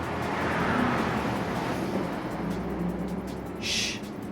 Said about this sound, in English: it's so loud down this road, like trucks